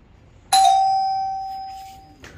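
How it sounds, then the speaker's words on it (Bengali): An indoor doorbell gives one clear, loud electronic chime that rings on and slowly fades, followed by a short second tap near the end, with no talking. "আমাদের এই কলিং বেল শুনে অনেকেই ভয় পান"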